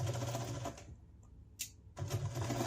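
Sewing machine stitching a quarter-inch seam on a casserole-size self-binding hot pad, running in two short close bursts around a brief pause.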